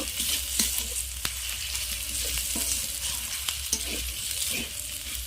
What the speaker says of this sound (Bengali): পেঁয়াজ রসুন আদা আমি ভালোভাবে আরেকটু ভেজে নেব